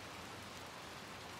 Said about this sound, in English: Anyway, it's raining out.